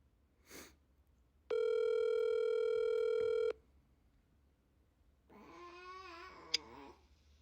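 On a podcast, a telephone call is placed: a single steady, buzzy ring tone lasts about two seconds, followed later by a wavering, meow-like warbling tone, all fairly faint against a quiet background.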